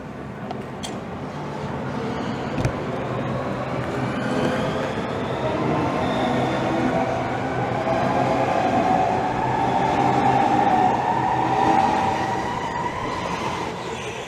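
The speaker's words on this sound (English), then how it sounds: "And it's now departing off to its next stop of Rainham." A Southeastern Class 395 electric train pulls out of Gillingham station with a steady traction hum that swells as it gathers speed, with faint wheel squeal and rail rumble close by.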